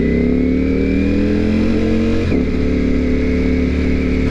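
A Ducati V4 motorcycle engine hums and revs steadily while riding downtown, loud and close, with a brief throttle change midway and no talking.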